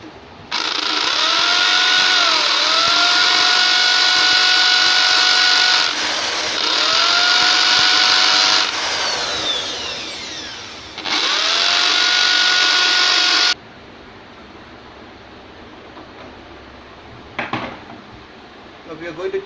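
A hammer drill bores into a wall for a rawl plug to mount a TP-Link router, a loud high whine in long sustained bursts with brief pauses and speed dips, ending with a short rattle after it stops.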